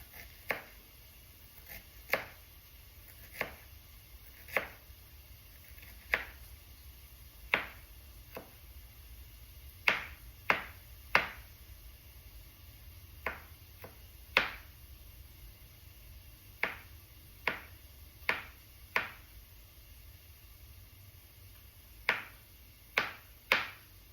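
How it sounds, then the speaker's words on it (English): Ginger being cut with a knife, about two dozen crisp, close chops landing on a board at an uneven pace, spaced by short pauses over a quiet background. "So we're just cutting up the ginger right now."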